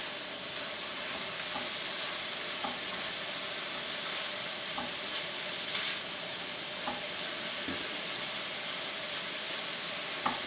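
Turkey sausage and hamburger meat fry in a pan for cactus chili, a constant dense sizzle with occasional scraping stirs and soft pops. No one talks.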